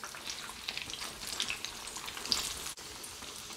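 Pork belly deep-frying in hot oil as the slab is turned to crisp its skin, a steady loud crackling sizzle with bright popping bursts and a brief dip near the end.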